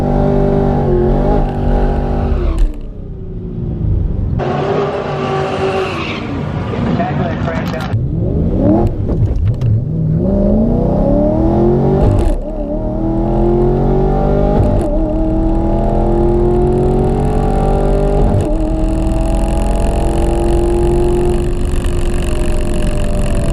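A car launches in a drag race against a Ford truck, its engine revving hard, bogging and climbing through gears in a loud, close, sustained roar, with speech over part of it.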